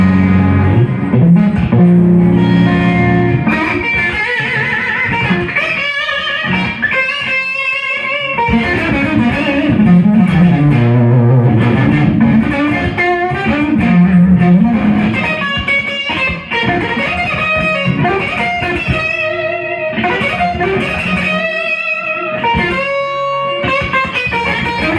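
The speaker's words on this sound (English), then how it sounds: "muted trumpet tone" Electric guitar with a walnut-bodied prototype Stratocaster-style build set to a warmer pickup position, giving a rounded, muted-trumpet-like tone; continuous melodic playing with chords and single notes, fairly loud and steady, no talking.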